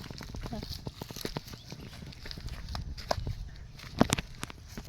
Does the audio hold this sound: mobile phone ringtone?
no